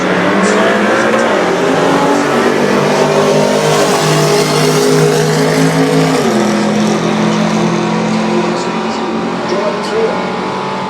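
A 351-powered Holden Commodore drag racing at Willowbank Raceway roars loudly as the engine revs through its gears, with a commentator talking over the engine noise.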